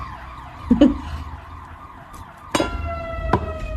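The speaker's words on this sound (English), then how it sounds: "There's an ambulance." An ambulance siren wails from some distance, a sustained tone sliding gradually, broken by a few sharp knocks nearby.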